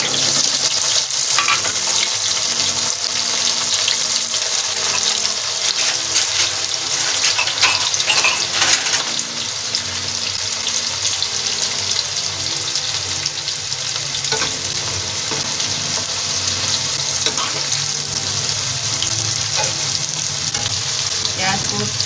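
Onions frying in hot oil in a karahi for chicken karahi, a loud, dense, continuous sizzle with occasional stirring scrapes, close up and steady throughout with no talking.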